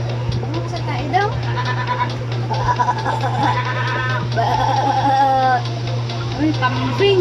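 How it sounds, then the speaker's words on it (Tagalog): Goat bleating several times in short wavering calls over a steady low hum, with people talking nearby throughout. "Uy, kambing."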